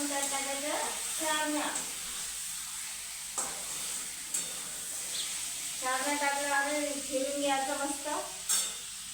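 Moong dal, green chilli paste and onion are stirred as they fry in a pan for a sarani vegetable dish, giving a continuous soft sizzle with scraping. A voice talks over the first and last parts.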